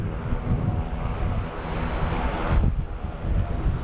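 Airplane passing at Sydney Airport, a steady broadband engine roar with wind noise that holds loud through the whole stretch, dipping briefly before swelling again.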